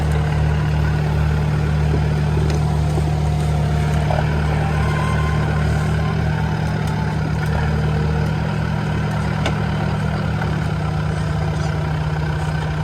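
Tractor stuck in a creek while busting a beaver dam runs with a loud, steady low engine drone, idling throughout with a slight shift in pitch toward the end, and no one talks.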